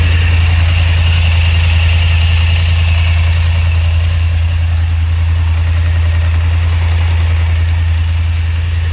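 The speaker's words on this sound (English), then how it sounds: "That's how loud it is at idle." A loud, steady Highlifter 1000 ATV engine idle rumbling close by, with a deep constant drone and a few brief clunks partway through.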